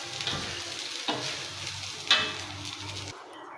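Flattened rice (chire bhaja) frying in a pan is stirred steadily, giving a close, continuous sizzle with scraping strokes and a few sharper clinks and knocks, with no talk.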